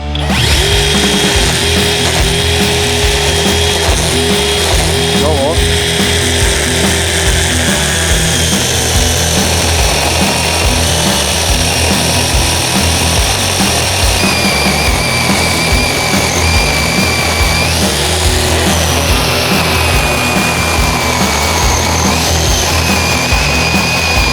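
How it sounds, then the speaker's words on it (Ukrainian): A Dnipro-M DCS-201BC battery chainsaw whines steadily while cutting into a wooden log, the motor straining and dipping in pitch under load throughout. "Зараз я зажену повністю шину та буду її випилювати зсередини"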